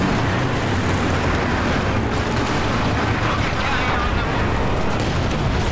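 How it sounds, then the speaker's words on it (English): Katyusha rocket artillery firing in Company of Heroes 2 on the Hill 400 map, a continuous dense roar of launches and explosions that fills the whole stretch, loud and unbroken, with a voice talking faintly beneath it. "Shooting their Katusha."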